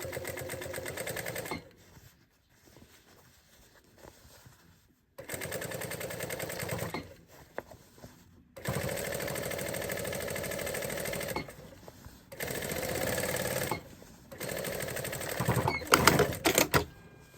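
A sewing machine stitches a hem on jeans in steady, rapid runs, stopping briefly and starting again several times, close and loud with no talk.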